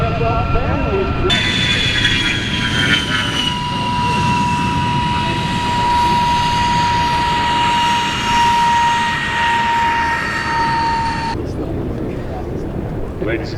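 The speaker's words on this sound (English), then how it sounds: "You will see the flight of A10s coming our way in the shoulder." A flight of A-10 jets passing at the EAA AirVenture Oshkosh air show, a loud sustained engine roar with a high whine that holds for about ten seconds and then cuts away, with crowd noise underneath.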